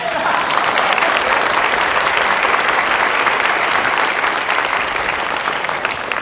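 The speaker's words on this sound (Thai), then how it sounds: "ปรบมือให้พ่อ" Audience applause on a Thai comedy stage show, a dense, even wash of clapping held at steady volume for several seconds, tapering a little at the end.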